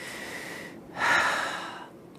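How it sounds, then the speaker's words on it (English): A singing teacher demonstrates improper shallow chest breathing: a single audible breath intake, airy and close, rising after a brief pause and trailing off, with no talking. "That's the least effective method of breathing for singing"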